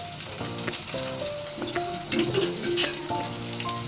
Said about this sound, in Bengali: কুমড়োটাও ভেজে নিচ্ছি।